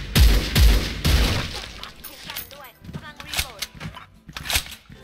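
Three loud, sharp rifle shots ring out in quick succession from a Dragunov SVD Red Dragon sniper rifle in the shooter game Special Force 2, followed by fainter clattering and smaller impact sounds.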